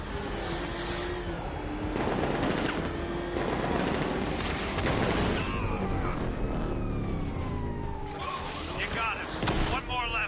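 Video game gunfire in a Batman game rattles in bursts and volleys under urgent spoken dialogue, with booming impacts and a musical score woven through the battle.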